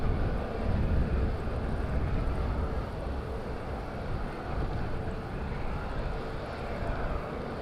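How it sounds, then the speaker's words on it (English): A TUI Boeing 737-800 inbound from Brussels lands at Madeira Island Airport. Its engines make a steady, low, broad roar at a distance, mixed with wind buffeting on the microphone. "Here comes TUI. TUI from Brussels. 737-800."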